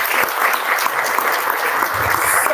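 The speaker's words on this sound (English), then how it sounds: "Everybody, could I get another round of applause for them?" An audience at a school board trustee town hall applauds steadily and fairly loudly for the speakers. The clapping is dense and continuous, with no voices rising above it.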